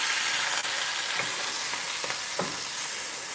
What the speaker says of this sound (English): So we're going to go ahead and saute these up a little bit.